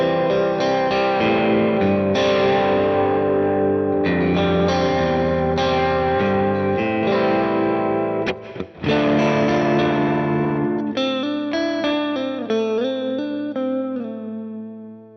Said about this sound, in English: here is a vibrato